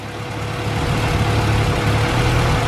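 A Honda Civic EG engine idles with a steady, low, even rumble, close and continuous, with no other sounds.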